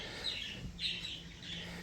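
Several birds chirp in the background outdoors, light repeated tweets over a low steady hum, with no talking.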